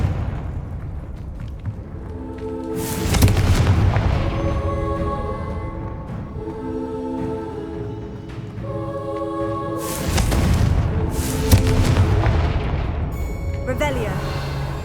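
Confringo blasting spell explosions in Hogwarts Legacy, two heavy booming bursts several seconds apart, each rumbling out over a bed of game music and ambience.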